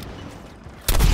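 A single loud gunshot blast in the Suicide Squad: Kill the Justice League video game, bursting in abruptly near the end after a stretch of quieter ambience.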